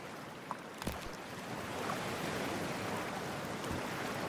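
A character wades into freezing water in Cyberpunk 2077, a few small splashes giving way to a steady, rushing wash of water, close and continuous, with no one talking.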